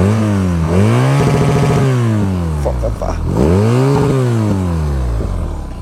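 A 2022 BMW R nineT Pure motorcycle engine revs up and down close by, with repeated rising and falling throttle blips over a loud, steady idle.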